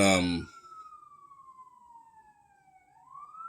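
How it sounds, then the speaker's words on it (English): A siren wails in the distance, one long falling tone that then starts to rise again, following a brief burst of voice at the start. "sirens are going off"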